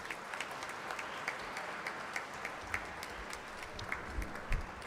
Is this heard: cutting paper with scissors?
no